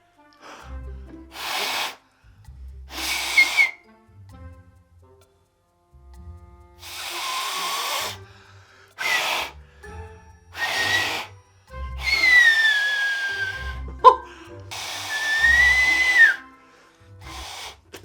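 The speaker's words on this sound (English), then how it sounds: "I've never been able to whistle really loud" A person blows hard through their fingers trying for a loud whistle, making a series of breathy rushes with silent pauses between. Later attempts break into short, shrill whistle tones that rise and fall.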